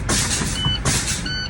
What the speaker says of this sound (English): my alarms came on, no lower than 55 psi